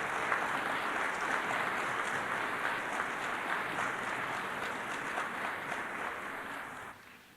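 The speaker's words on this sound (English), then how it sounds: "Let's celebrate these nurses with a round of applause." An audience at a spring nursing commencement claps for the nurses in a sustained round of applause. It is steady and moderately distant, then fades out at the end.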